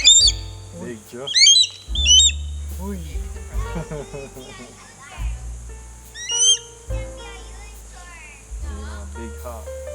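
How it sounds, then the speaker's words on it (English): A small bird at a raptor centre in Belize gives sharp, rising chirps and whistles in scattered bursts, close by, against quiet background hiss with low rumbles. "Very cute little bird."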